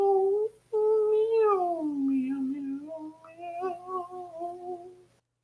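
A streamer imitating a cat with his voice, a drawn-out wavering meow followed by a second, lower whining meow, close and fairly loud.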